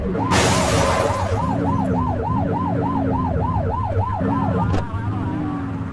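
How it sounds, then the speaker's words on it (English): A wailing police siren in the video game The Precinct sweeps up and down in quick regular cycles over a running engine, loud and close, with a sharp click near the start and end. "Get on their tail and flip the siren."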